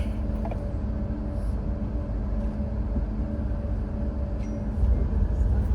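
Interior of a moving train on a ride toward İzmit: a steady low rumble and rolling rail noise, continuous throughout, with a few faint rattles and no talking.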